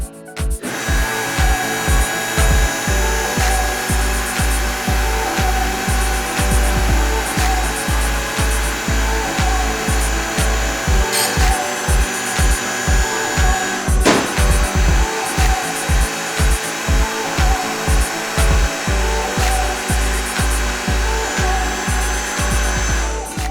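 A mandrel tube bender pulls 1.5-inch by .065-wall T304L stainless steel tube with no mandrel inside. The machine gives a loud, steady mechanical drone with a regular rapid clicking pulse throughout and one sharp creak midway, and no talk.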